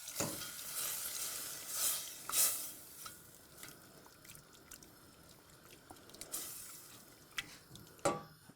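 A cream and caper sauce simmers in a pan with a soft, steady sizzle and gentle bubbling, broken by a few brief louder crackles and spoon clinks, close and fairly quiet with no talking.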